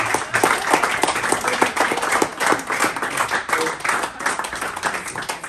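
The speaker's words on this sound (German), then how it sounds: "der hat einen Applaus auch verdient" An audience at a winter meetup of motorhome owners applauds and claps in appreciation for a man named Markus, a lively, sustained round of clapping from a crowd.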